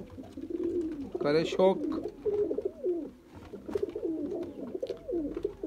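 Red-eyed golden pigeons coo in low, rolling, bubbly phrases, fairly close and repeated throughout, while someone speaks over them.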